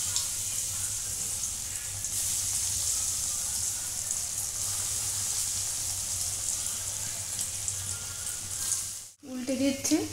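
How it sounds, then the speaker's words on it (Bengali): Chira (flattened rice) cutlets dropped one by one into hot oil in a wok, a loud, continuous sizzling hiss close up that cuts off abruptly near the end, followed by a few clattering sounds. "এবার একে একে কাটলেটগুলো দিয়ে দেবো"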